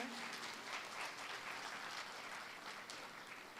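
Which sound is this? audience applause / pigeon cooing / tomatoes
audience applause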